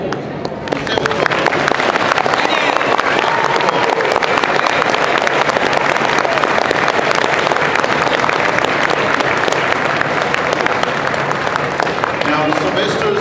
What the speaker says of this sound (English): So if I can have a massive round of applause.